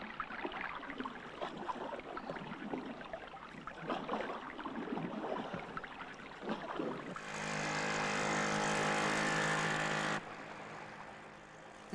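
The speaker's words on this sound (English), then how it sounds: "The second time, they gave the camera plane extra airspeed." A small propeller-driven camera plane flies over an Okavango lagoon in Africa, its engine building into a loud, steady buzzing drone for about three seconds, then cutting back, with a busier wash of outdoor sound before it.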